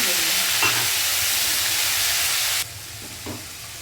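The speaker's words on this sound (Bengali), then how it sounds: "প্রথমে পেঁয়াজটাকে একটুখানি কষে নেব তেলের মধ্যে" Onion paste frying in hot oil with a loud continuous sizzle and hiss, a few stirring scrapes, and the sizzle dropping suddenly partway through as water is added.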